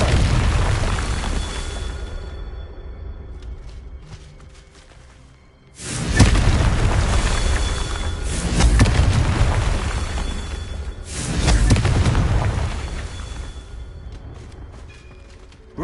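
Confringo blasting spells in Hogwarts Legacy go off as three loud, deep booming explosions at a steady pace, each swelling and then fading, with no talk.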